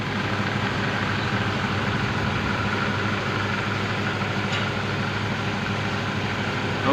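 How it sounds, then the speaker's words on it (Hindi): A Volkswagen car engine idles steadily just after starting, a constant broadband rumble holding at an even level throughout with no talk over it. "गाड़ी स्टार्ट कर, तो let us start the car"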